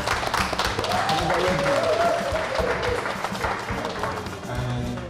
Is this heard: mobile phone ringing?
no